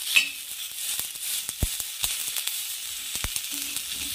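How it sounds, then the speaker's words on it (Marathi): Tomatoes roasting on a hot tawa griddle give a steady close hiss of sizzling, broken by scattered sharp pops and small clicks, with no voices. "याच्यावरचं कवर काढायचं आहे आपल्याला भाजल्यानंतर, म्हणून हे छान असं भाजू द्यायचं आहे"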